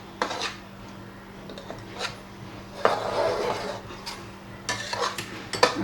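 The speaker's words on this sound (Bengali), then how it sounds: "সময় নাড়তে হবে, কারণ তলায় লেগে যাওয়ার একটা ভয় থাকে" A nut and spice paste of pistachio, almond, raisin, onion, poppy seed and green chilli is stirred in a pan over raised heat, with repeated close scraping strokes and soft sizzle underneath, no talk.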